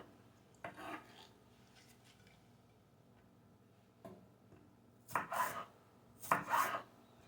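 Pumpkin greens being chopped with a knife on a board: a few sparse, sharp cuts early, then two louder bursts of rapid chopping near the end, with quiet pauses between.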